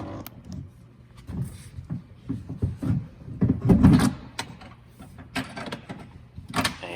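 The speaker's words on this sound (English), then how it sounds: "just reach around with both hands and pull the mirror out from the door" Plastic creaks, clicks and scraping thumps as the side mirror of a 2018-2021 Honda Odyssey is worked loose and pulled away from the door, with a louder rattling clunk midway.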